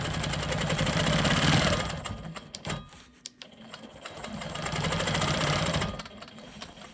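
A Quilt Maker Pro 20 quilting machine stitches a quilt block, a loud steady rapid mechanical hum that pauses briefly midway, then resumes.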